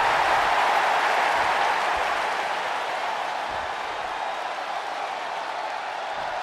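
Roaring wrestling arena crowd cheering and applauding at a match, a dense continuous wash of noise that slowly eases slightly in loudness, with no other sounds standing out.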